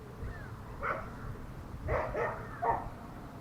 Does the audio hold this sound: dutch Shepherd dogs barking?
yes